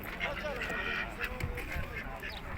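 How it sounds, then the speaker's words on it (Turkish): Ducks and geese honk and quack among other fowl at a poultry market in Sungurlu, a steady crowded din with people talking nearby. "Ördekleri var, gazlar var."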